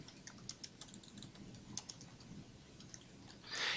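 Fast typing on a computer keyboard while lesson information is entered, a quiet run of irregular light key clicks with a louder burst of clatter at the end, no voices.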